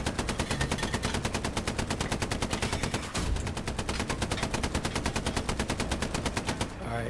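Automatic machine gun fire from the WWII shooter Hell Let Loose rattles in a loud, continuous rapid stream of evenly spaced shots, barely broken by a heavier burst midway before stopping abruptly.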